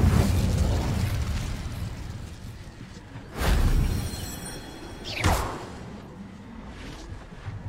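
In the video game Hogwarts Legacy, the Incendio fire spell bursts out in two whooshing, booming blasts a couple of seconds apart, over a steady background bed of game ambience.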